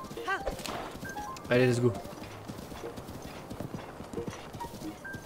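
Horse hooves clip-clop in Zelda: Breath of the Wild, a steady rhythmic patter carrying through the clip, with a brief neigh or whinny near the middle and someone talking over it.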